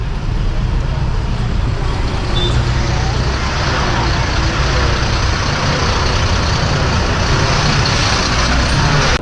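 Inside an MSRTC bus moving through traffic near Sangameshwar on the Mumbai–Goa highway in rainy weather, a loud, constant engine and road rumble fills the cabin, with muffled voices beneath it.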